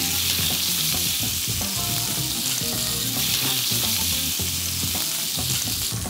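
Steady, loud sizzling of pork ribs frying in a hot pan, with occasional scraping and stirring sounds throughout, no voices.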